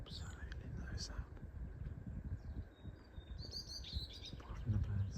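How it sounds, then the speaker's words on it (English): Faint, high chirps of birds at a lake in the Änggårdsbergen nature reserve come through now and then over soft outdoor rustle, with a quiet voice murmuring close by. "Apart from the birds."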